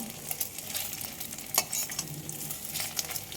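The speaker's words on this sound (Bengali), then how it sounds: "এখন পটলগুলো পাল্টে দেব। দেখুন কত সুন্দর করে লাল লাল করে ভেজে নিয়েছি।" Pointed gourd pieces fry in hot oil with a steady close sizzle, while scrapes and soft clacks mark them being turned in the pan; no one speaks.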